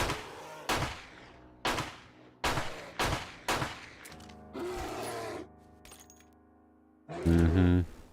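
Single gunshots crack out one after another at an irregular pace in the survival game 7 Days to Die, sharp and fairly close, followed by some mechanical clatter and a louder burst near the end.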